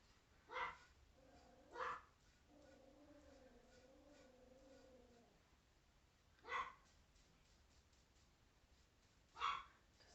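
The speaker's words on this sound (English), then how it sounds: "my dog is going to bark because there are people outside walking around" A small, feisty female dog barks indoors at people and another dog passing outside, giving four sharp, separated barks with a whining stretch between them over steady room hiss; no talking.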